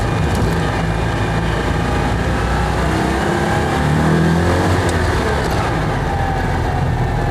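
A Citroën 2CV engine revs hard while driving on a road trip, a loud, steady broadband drone with wind noise throughout and a slight surge in the middle, no voices.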